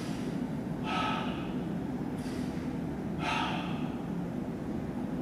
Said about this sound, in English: So now you are breathing in your nose, out your mouth, and you are listening to each breath.